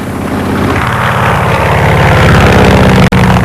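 A single aircraft piston engine drones steadily in flight on a solo crossing toward Le Bourget airport in Paris, a loud, continuous propeller hum with a brief dropout near the end and no voices.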